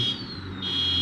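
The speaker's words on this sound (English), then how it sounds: "You set off the alarm." A steady electronic alarm tone sounds continuously at a high pitch, briefly dipping before returning, over a low background hum.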